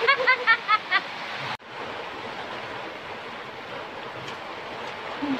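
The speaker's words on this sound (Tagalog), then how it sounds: "Grabe ang lakas na nung ulan, guys." Heavy rain falling steadily just after a typhoon, a broad even hiss of downpour heard near a garden, preceded by a short run of chirping sounds before a brief cut.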